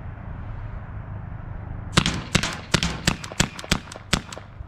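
A SABRE Red pepper spray launcher fires about eight sharp, loud pneumatic shots in quick succession, after a couple of seconds of low outdoor background hum.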